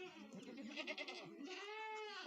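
Goats eating cucumber bleat in drawn-out, wavering calls, one after another, fairly close and clear against a quiet background.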